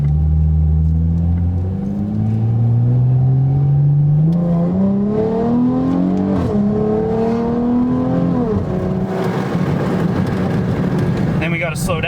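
V6 American muscle car with a new exhaust, revving and accelerating hard, its loud engine note climbing through gear changes close to the microphone, with people talking over it.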